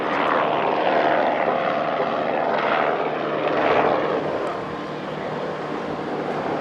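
Helicopters fly over Los Angeles, and their rotors and engines make a steady, broad roar that lasts throughout. It swells slightly in the middle and eases toward the end, with no voices.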